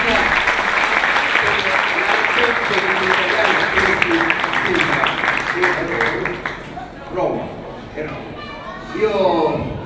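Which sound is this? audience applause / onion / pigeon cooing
audience applause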